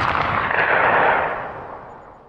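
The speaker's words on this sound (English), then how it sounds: "Sounded like gunshots, I think." Gunfire in the video game Tempus Triad erupts as a loud, sustained roaring blast that swells and then slowly fades away, with no talking over it.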